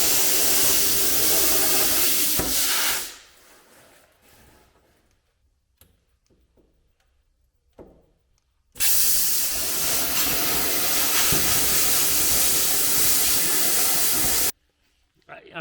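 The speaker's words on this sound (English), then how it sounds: "we got Gord, the plasma cutter over here" A plasma cutter slicing into a Toyota Tacoma body, a loud, harsh hissing roar that runs for a few seconds, stops with faint clicks, then resumes in a second long burst before cutting off again.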